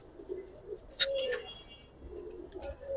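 A silver Dom pigeon coos softly in a few short, low, throaty bursts, fairly close but quiet, with faint chirps from other birds around it.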